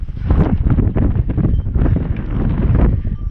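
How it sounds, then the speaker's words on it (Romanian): Strong wind roars across a mountain ridge, buffeting the microphone in loud, continuous gusts that rise and fall. "Se întețește vântul aici"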